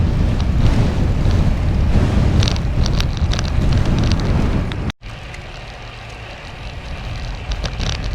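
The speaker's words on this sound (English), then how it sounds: "straight into the wind" Strong, steady wind roars against the microphone of a bicycle rider pedaling straight into a headwind on a road, a loud broadband rumble that cuts out briefly midway before continuing slightly softer.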